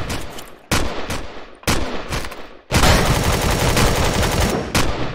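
Weapons fire in the sci-fi survival video game Empyrion, loud sustained bursts of rapid gunfire with brief gaps between the first volleys, then a long continuous barrage, close and without talk.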